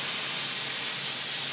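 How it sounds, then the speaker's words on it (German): Aurochs meat searing in a hot pan, browned evenly on all sides, gives a steady, loud, dense hiss with no pauses. "immer schön von allen Seiten gleichmäßig braun anbraten, damit wir einen schönen Brateinsatz bekommen"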